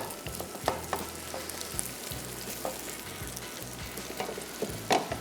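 A plain salted omelette frying in a pan, an even crackling sizzle running throughout with occasional small clicks and taps from a utensil, moderately close and without speech.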